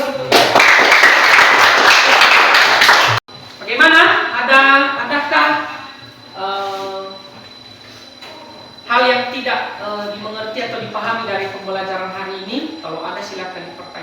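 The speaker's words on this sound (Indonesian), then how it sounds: "berikan aplaus untuk" A classroom audience of students bursts into loud, dense applause for about three seconds, then stops abruptly as a teacher talks on.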